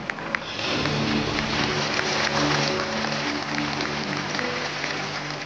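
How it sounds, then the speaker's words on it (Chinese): Applause from a school audience greeting a crewed spaceflight delegation at an event for students, a sustained crowd of clapping swelling in then holding steady, fairly distant. "让我们以热烈的掌声欢迎中国载人航天工程代表团成"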